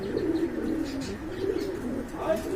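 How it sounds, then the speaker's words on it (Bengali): Pigeons for sale coo in soft, low, repeated murmurs that run steadily throughout, with a few faint chirps mixed in. "এই যে দেখেন কতটা কিউট কবুতর"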